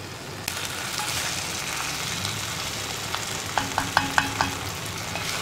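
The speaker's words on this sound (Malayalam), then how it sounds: "ഇതിപ്പോൾ ഉരുളിയായതുകൊണ്ട് നമുക്കിതുപോലെ ഇളക്കാൻ പറ്റുള്ളൂ." Koottu curry being stirred in a heavy uruli pot, heard as a faint, steady background hiss with a few light taps and scrapes of a ladle against the metal, clustered together toward the end, quiet and close with no talking.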